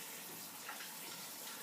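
Tap water runs steadily into a pot being filled for cooking a Jamaican chicken foot, chicken back and cow skin soup, a faint continuous hiss with no talking.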